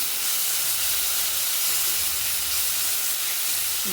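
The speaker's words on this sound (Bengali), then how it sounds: "কচু পাতা সেদ্ধ করে নিয়ে বেটে নিয়েছি, সেই বাটাটা দিয়ে দিলাম।" Boiled, ground taro leaf paste hits a hot cumin tempering in a pan, giving a steady, loud broadband sizzle and hiss that runs unbroken for about four seconds with no talking.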